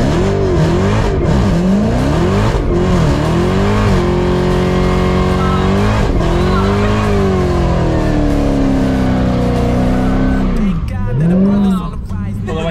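Dodge Challenger Hellcat Redeye with 808 horsepower roaring loudly through repeated rising and falling revs as it accelerates, heard from inside the car with tire noise, on the road in Warsaw.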